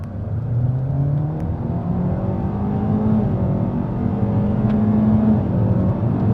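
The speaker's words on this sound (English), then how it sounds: "We can try one out off the line. See what this thing's got in sport." A 2025 Kia K4 LXS in sport mode accelerates hard from a standstill, its engine droning and climbing steadily in pitch from inside the cabin, with no speech over it.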